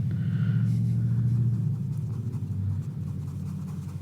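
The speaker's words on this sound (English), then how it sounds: "Somebody has a rumbly truck." A rumbling truck outside idles with a low, throbbing drone that holds steady and eases slightly after a couple of seconds, heard at a distance behind faint scratching of a paintbrush.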